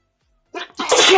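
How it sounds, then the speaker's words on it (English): A single sharp sneeze, close and loud, opening with a brief intake burst and then a forceful explosive release. "I tried to sneeze away from the mic."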